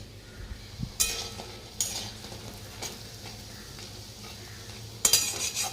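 Fritters (bora) frying in a pan give a soft, steady sizzle, broken by a few sharp clinks and scrapes of a utensil stirring against the metal.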